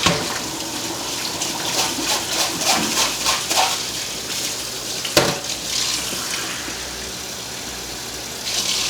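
Tap water runs steadily over rice being rinsed in a wire mesh strainer at a kitchen sink, a close splashing rush with small shifts in spatter and one sharp knock midway, no voices present.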